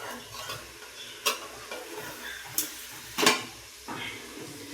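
Fried fish pieces stirred and sautéed in a pan for a village-style fish head curry with olives, giving a low steady sizzle broken by several sharp scraping clinks of the spoon against the pan.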